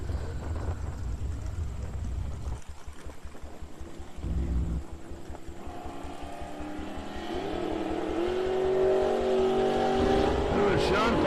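Drag race launch with a 572 big block wedge Chrysler alongside a 78 Pontiac Trans Am: loud, steady engine roar and rumble throughout, building in pitch and intensity toward the end, with a track announcer's voice over it.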